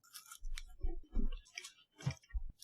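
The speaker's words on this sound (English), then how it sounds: "What everyone wants to listen to, chewing" Candy being chewed close up, two pieces at a time: soft, wet squishing and clicking mouth sounds in several uneven bursts with short pauses, quiet and without talk.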